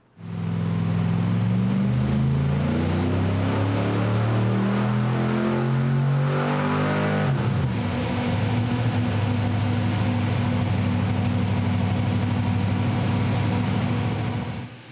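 A Small Block Chevy engine revs hard through a dyno pull in hot weather, its loud droning roar climbing steadily in pitch, then holding at a high sustained pitch before cutting off.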